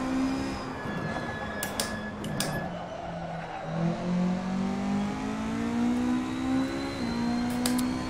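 Ford Escort MKII rally car on a circuit, its engine droning and shifting pitch steadily as it slows hard for a tight section, with brief whooshes and clunks over the continuous engine note.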